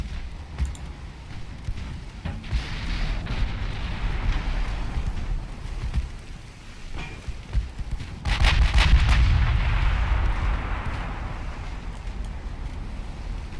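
Naval gunfire in the warship game Ultimate Admiral Dreadnoughts: a dense, rumbling wash of distant heavy cannon booms and low wind-like roar, swelling into a louder burst of blasts partway through, with no voices.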